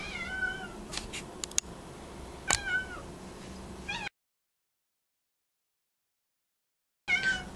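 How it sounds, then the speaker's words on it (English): A kitten meows repeatedly in a home, high thin cries coming in short bursts with gaps, then breaking off into silence before one more cry at the end. "What is wrong with the kitten?"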